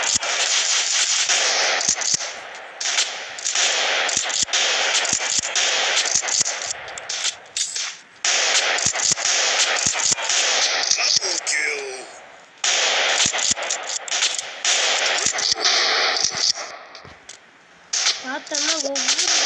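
Shotgun and gunfire in the Rope Hero video game come as dense, loud bursts of sharp reports and crackling blasts, nearly continuous, with a few brief gaps and no voices.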